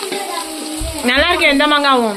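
Onions sizzle in a hot pan for Chettinad chicken curry, a steady frying hiss running beneath a voice talking throughout.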